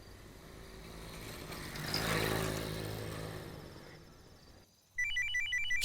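A mobile phone ringtone bursts in near the end, loud and repeating in a patterned melodic loop, right after a rushing, engine-like street noise that fades out.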